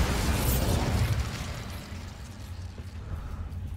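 A Bombarda spell explosion from the video game Hogwarts Legacy, set in a haunted mansion, lands as a loud, broad blast that rumbles and slowly decays over a few seconds, with no talking.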